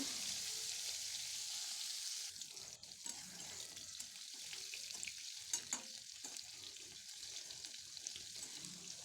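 Cauliflower pieces frying in oil until reddish, a soft, fairly quiet sizzle with small stirring clatters and a brief knock partway, continuing steadily without speech.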